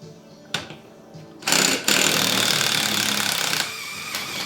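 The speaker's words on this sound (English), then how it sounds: "we'll see if my little impact wrench will do it" A small impact wrench hammering on a motorcycle fork cartridge during a WR250R fork rebuild: brief bursts, then a loud, close, sustained rattling whir for about two seconds that tapers off.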